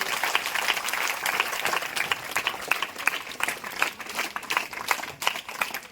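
Steady applause from an audience at a government school event fills the whole stretch, many hands clapping in a dense, even patter at moderate distance with no speech over it.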